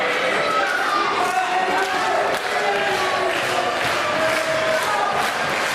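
A wrestling crowd at an FWA live show in Newport cheers and shouts continuously, a dense roar of many voices holding steady throughout, loud and close.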